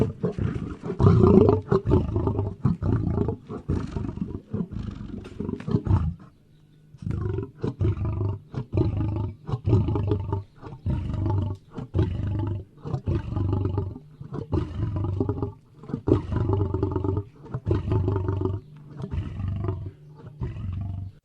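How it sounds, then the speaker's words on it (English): A lion roars repeatedly in loud, close, deep bursts, with a brief pause around six seconds before a fresh series of rhythmic roars and grunts continues to the end. "A lion."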